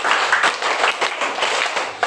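After a third-grade school drama of Malin Kundang, a small group claps, individual hand claps audible in a loose, uneven rhythm, close by and moderately loud, with a sharp final clap at the end.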